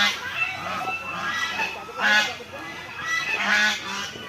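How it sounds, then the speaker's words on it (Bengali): Domestic geese honk nearby in a few loud, nasal calls spaced a second or so apart, with faint background murmur between them. "আর এই দেখো হাঁস, রাজহাঁস দেখতে পাচ্ছ।"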